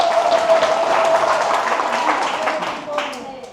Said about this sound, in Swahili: Kama umenielewa mpigie Mungu makofi kama umenielewa